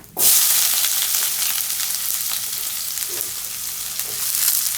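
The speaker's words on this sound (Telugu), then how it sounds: "జీలకర్ర వేసుకొని ఇప్పుడు ఇందులోకి మనం తరిగి పెట్టుకున్న ఆనియన్స్ వేసుకుందాము" Chopped onions and cumin seeds frying in a hot pan for carrot rice, a loud steady sizzle that bursts in at the start and holds throughout with faint crackles, no voices.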